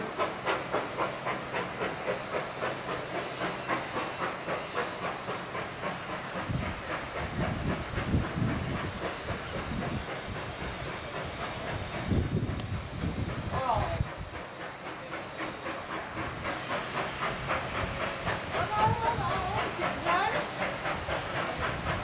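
A steam train passing at Watchet, heard at a distance with steady rhythmic chuffing and hiss over an outdoor background, swelling louder in the middle and fading again.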